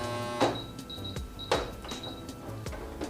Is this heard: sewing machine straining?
yes